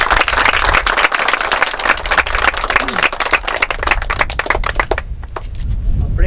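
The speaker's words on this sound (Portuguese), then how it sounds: "Vamos dar uma salva de palmas aos inventores" A crowd at a condominium blessing ceremony in Caicó claps for the inventors, a loud dense burst of applause that thins out toward the end.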